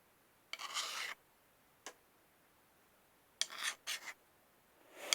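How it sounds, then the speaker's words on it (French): Short rasping strokes of a metal file on small brass pins, in separate bursts: one longer rub, a quick single stroke, then two close strokes and a final one, crisp and fairly close in a quiet room. "il faudrait que je lime un peu parce que j'ai laissé un peu de merde"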